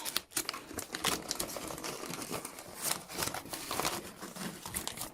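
Watercolor papers wrapped around a parcel of art brushes are snipped and crinkled during unboxing, giving a dense run of close, crisp rustling and crackling with small cutting snaps and no voices.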